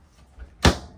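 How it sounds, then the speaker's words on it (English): A soft-close drawer in the living quarters of a Lakota horse trailer shuts with a single muffled thump after a faint slide. "we've got built-in soft close drawers"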